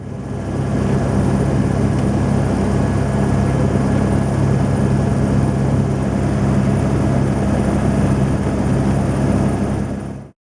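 A helicopter in flight on a trip to Aperibé, its rotor and engine drone heard from inside the cabin, loud and steady throughout with no talk.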